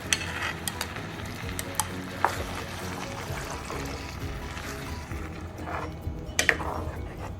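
Green chicken curry gravy, salted, boils in a pan with a soft, steady bubbling and scattered small pops and spits, close and fairly quiet, with no talk.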